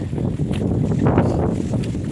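Steady wind roars and buffets the microphone near the peak of Tai Mo Shan, Hong Kong's tallest mountain, a continuous low rumble with no talk over it.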